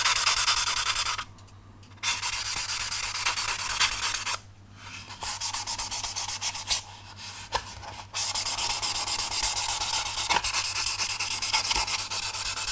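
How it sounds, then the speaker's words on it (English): 800-grit abrasive rubs over the surface of a 22-inch Eagle 1 model kit from Space 1999. It makes close, steady scratchy strokes broken by a few short pauses, with no talking. "you're going to polish out any marks."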